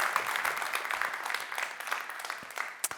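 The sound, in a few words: audience applause for speaker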